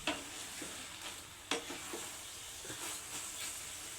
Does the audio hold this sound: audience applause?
no